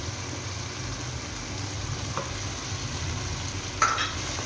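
Dried fish hits a spice paste frying in a pan, a steady low sizzle running throughout with faint stirring scrapes and one brief clink near the end, close and fairly quiet.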